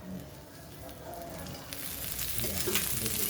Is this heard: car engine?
no